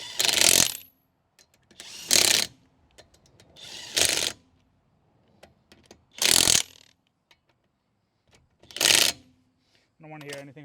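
Impact wrench fitted with chrome sockets hammering lug nuts on the wheels of a 1996 Honda Acty, five loud, close bursts separated by quiet gaps, with a brief voice at the very end.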